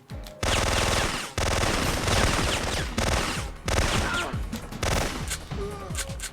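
Glock 18 machine pistol in Syphon Filter firing loud rapid automatic bursts, several sustained volleys separated by brief pauses, with echoing impacts.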